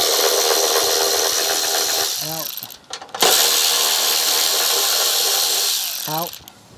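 Power tool loosening 10mm bolts on the cover of a Cub Cadet snow blower: a loud, steady close-up whir that briefly stops near the middle, then resumes, with short rising chirps as the tool spins up and down.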